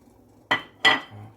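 Tofu going into a pot of milky dried pollock soup (bugeoguk), heard as two sharp, close clinks about a third of a second apart over a faint low hum.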